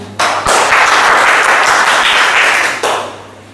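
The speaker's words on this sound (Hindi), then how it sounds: "खुशहालियां आएंगी अगर हर प्रस्तुति पर जोरदार तालियां आएंगी" A burst of loud applause from a large audience at a Hindi Diwas poetry gathering, dense clapping sustained for a few seconds before tapering off.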